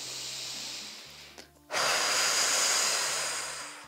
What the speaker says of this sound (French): tu vas prendre une profonde inspiration par le nez et une expiration par la bouche